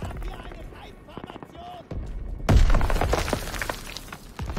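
A grenade goes off in the Normandy landing of the World War II shooter Call of Duty: WWII, a sudden loud blast with debris crackle. Battlefield noise and gunfire come before it, and someone talks over the game.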